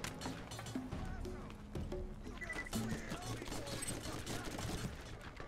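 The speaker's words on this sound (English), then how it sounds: "There's somebody else shooting at us." Enemy gunfire in Borderlands, repeated sharp shots and bursts scattered through a busy game soundscape, moderately distant and fairly quiet, with someone talking over it.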